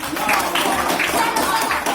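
Audience applause for a group at a teacher professional training session, a dense, steady wash of many hands clapping together for about two seconds, with a faint voice mixed in.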